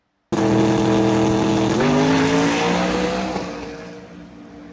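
A race car engine runs loud and close, revving hard with a rising whine, then pitching down as the car runs off the track, fading slightly toward the end.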